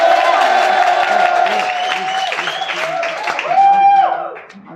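An audience at a motivational talk imitates a boxing-match crowd cheering, loud whoops, shouts and scattered clapping in a dense burst that fades at the end.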